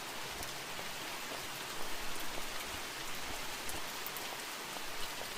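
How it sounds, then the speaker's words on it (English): Steady rain pattering down in the video game The Mortuary Assistant, with faint droplet taps over a constant hiss and no voices. "That rain."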